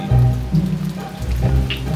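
Light drizzle falling outdoors near a river, a steady soft patter close by with a faint low hum running underneath and no voices.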